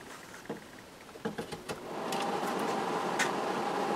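A dehumidifier blower starts up after being powered on through a single lead to the hot wire, a few clicks giving way to a steady, close whooshing hum that holds alone to the end.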